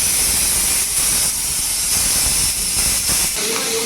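Tempering for chutney sizzles and hisses loudly and steadily in hot oil, a dense spitting roar that stays close and constant from start to finish, with no talking over it.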